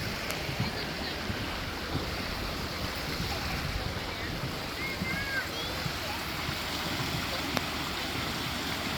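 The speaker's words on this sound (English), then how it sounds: "So here's the little tiny waterfall. This feeds into the marsh." Small waterfall spilling into a marsh, a steady broadband rush of falling water that runs unbroken and fairly near, with faint bird chirps and light wind noise mixed in.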